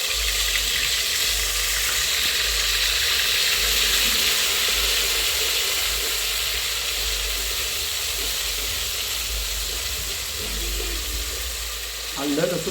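Ginger, garlic and coriander paste fries in hot oil for Kolhapuri kat vada, giving a loud, steady sizzle that continues throughout.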